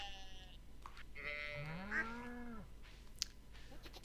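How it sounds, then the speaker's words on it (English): A sheep bleats in the farming game Stardew Valley, one wavering, drawn-out bleat with a short call before it, then a few faint clicks, all quiet and alone. "the problem with some of the sheep and cows that I have now is a lot of their bleats and moos sound a bit like yeets and boos"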